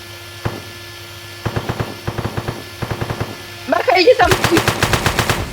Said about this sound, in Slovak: Strelil som ho.